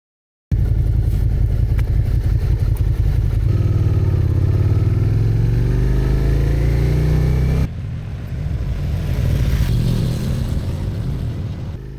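A motorcycle on the road, its engine loud and continuous as it revs and rises in pitch through acceleration, with a brief drop and recovery partway through; no voices.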